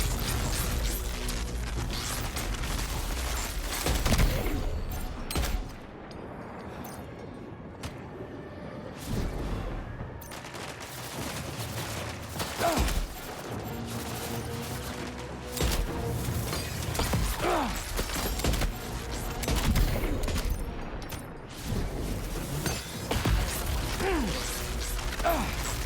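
Dense bursts of gunfire and mechanical clatter from a Death Stranding 2 firefight, with sharp cracks and heavy impacts recurring irregularly throughout a loud, busy mix.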